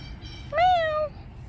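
A single clear cat meow, close and fairly loud, lasting about half a second, rises in a yowling tone over faint outdoor background noise in a backyard.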